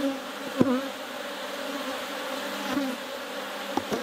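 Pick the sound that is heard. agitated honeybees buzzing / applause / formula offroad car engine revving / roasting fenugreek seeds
agitated honeybees buzzing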